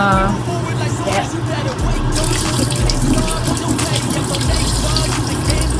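Tap water runs steadily and loudly into a pot as rice is rinsed until the water runs clear, a continuous close splashing rush with no pauses.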